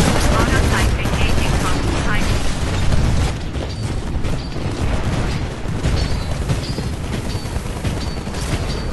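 Sustained gunfire from the video game Titanfall during a capture-the-flag battle, loud and continuous with dense automatic bursts and booms, with players talking over it.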